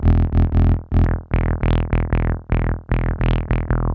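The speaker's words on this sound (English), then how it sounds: "Even with the drive at 0, you will hear the distortion" Distorted synth notes from a P565 Siren synthesizer with the drive set to zero, a rapid sequence of about a dozen gritty, buzzy tones in a steady pulsing rhythm, loud and close, with no voices.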